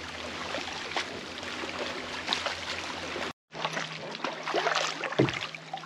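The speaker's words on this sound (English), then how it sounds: "So we came out for a short paddle today" Kayak paddling on a waterway, with steady water wash and lapping around the hull, a brief dropout midway, then continued splashing and a louder paddle stroke near the end, no talking.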